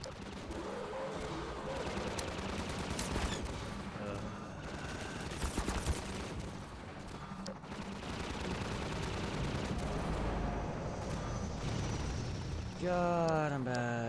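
Continuous gunfire in Half-Life 2, a dense run of rapid shots layered over loud combat noise throughout, with a rising whine near the end.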